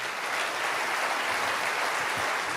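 An audience at a church service applauds, dense steady clapping filling the room at full volume for a few seconds, with no voice over it.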